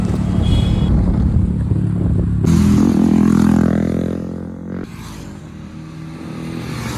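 A KTM Duke 200 motorcycle engine drones steadily while being ridden, swelling louder for a couple of seconds before dropping back to a lower rumble, with wind buffeting the rider's microphone.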